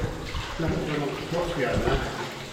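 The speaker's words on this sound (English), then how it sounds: "Normally you wouldn't see this water coming through." Water runs through an abandoned lead mine passage at Rampgill Mine, Nenthead, giving a steady, moderately close rushing flow that persists throughout, with faint voices mixed in.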